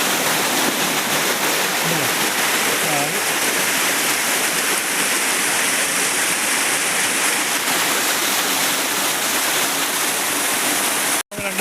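Rainwater rushes along a road on NH 66 at Randathani in Malappuram, Kerala, a loud, steady, close wash of flowing water that barely changes, with a brief thump near the end.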